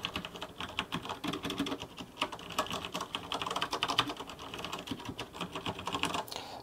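Rapid, continuous typing on a Roccat Ryos TKL Pro mechanical keyboard with brown switches, fairly soft, muted keystrokes in an uneven rhythm with no talking.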